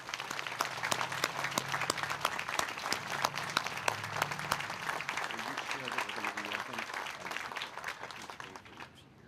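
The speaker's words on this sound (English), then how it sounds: "let's give them one more round of applause" Sustained audience applause at a Hometown Heroes banner dedication ceremony honoring veterans: dense, even clapping from a crowd lasting about nine seconds, with a voice faintly audible near the end.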